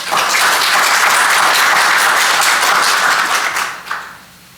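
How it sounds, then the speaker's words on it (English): Loud, sustained applause from an auditorium audience at a community college candidates' forum, welcoming the moderator; the clapping stays full and even, then thins out and stops near the end. "So let's give her a round of applause."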